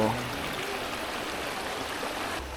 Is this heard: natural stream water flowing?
yes